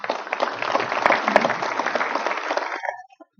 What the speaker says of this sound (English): Quick round of applause for Jonathan.